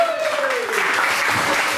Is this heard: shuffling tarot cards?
no